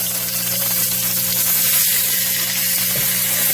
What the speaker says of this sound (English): we're gonna flip our steaks